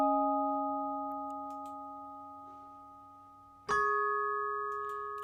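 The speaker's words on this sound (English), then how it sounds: "The piano is from Omnisphere, from the Celeste kit, Keyscape, and it sounds like this." Celeste keys from the Omnisphere Keyscape kit play two sustained chords. The first rings and slowly decays, then a second bright chord strikes with a soft attack and sustains. The tone is clean and bell-like with no processing.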